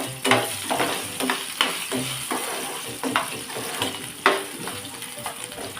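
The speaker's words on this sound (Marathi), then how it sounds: "तेलामध्ये आपल्याला ही फ्राय करायचे" Cut potatoes fry in oil with green beans for a masala fry, giving a steady close sizzle broken by repeated scraping stirs and soft clinks of a utensil against the pan.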